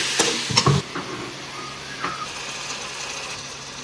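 Chili pakoda ingredients sautéing in a pan, a steady soft sizzle and hiss throughout with a few clinks of a utensil near the start.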